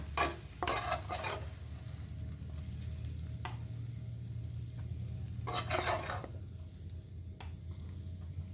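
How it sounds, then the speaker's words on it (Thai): Shrimp fried rice is scooped from a hot pan into a bowl with a few sharp scraping strokes of a spatula against metal, set against a faint background sizzle and no speech. "เมย์ก็จะ ตักข้าวใส่ถ้วยเลยนะ"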